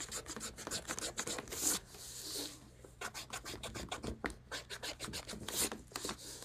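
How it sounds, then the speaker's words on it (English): Pencil lines are erased on paper up close, making quick repeated rubbing and scratching strokes in short bursts with brief pauses, fairly quiet with no talking. "And then erase the other line."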